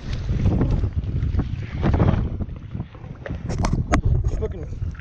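Strong wind buffeting the microphone outdoors by the water while trout fishing, loud roaring gusts rising and falling throughout with some speech underneath.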